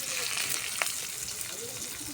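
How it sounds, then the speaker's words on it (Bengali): Onion frying lightly in oil in a wok for a pangas fish curry, a soft steady sizzle with faint stirring, close and low, no clear talk. "পেঁয়াজটা সুন্দর করে ভাজে নিব"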